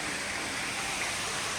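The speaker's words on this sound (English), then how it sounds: "There's a waterfall." A zoo waterfall in an open, nature-style enclosure gives a steady, dense rush of falling water, continuous and fairly close throughout.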